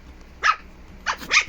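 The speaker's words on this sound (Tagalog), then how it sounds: "Naglalaro mga tuta." Shih Tzu puppies at play give a few short, close barks and yips with a growly edge, three quick bursts with brief pauses between them.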